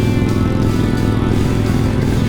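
A Harley-Davidson motorcycle of around 1,000 cc rides on a road in Tenerife, a loud, continuous engine drone heard close from a following rider with strong wind rumble.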